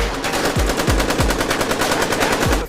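A voice imitates rapid machine gun fire in a World War I battle scene, a loud, steady burst of repeated shots lasting a few seconds with occasional deeper thuds.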